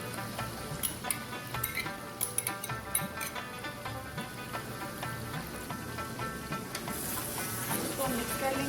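Chicken karahi sizzles in a wok after yogurt is added, a steady crackling fry with scattered sharp pops and stirring clatter that grows into a brighter, hissing sizzle near the end.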